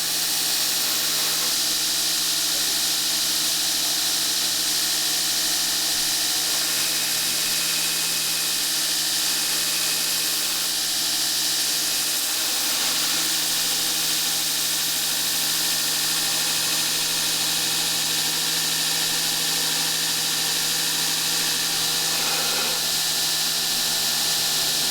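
Belt grinder grinding a Damascus hunting knife blade, a steady, loud, continuous hiss and whine running unbroken throughout with no talk.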